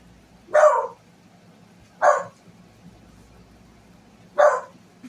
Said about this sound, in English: Don't know why she's barking.